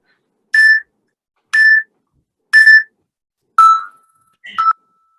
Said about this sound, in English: Not during that beeping warning, but during when it does the final long beep.